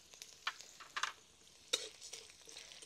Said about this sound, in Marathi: लसूण थोडासा परतला की त्यात लगेच जे आपण पांढरी उडीद डाळ घेतली ती टाकू।